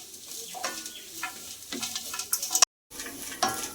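Grated coconut and curry leaves fry in a pan with a soft, close sizzle and intermittent stirring scrapes, cut by a brief silent gap near the end before the sizzling resumes; no voices.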